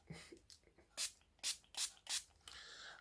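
Four quick, close spritzes of a makeup setting spray in a row, with a few soft handling rustles before them and no talking.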